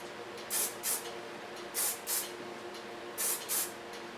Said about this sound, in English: This hairspray you can use every day because it comes really lightly out of your hairs.